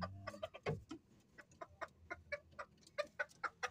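A brooding hen clucks in a quick series of short, close, fairly loud calls, with a steady rhythm and no talking.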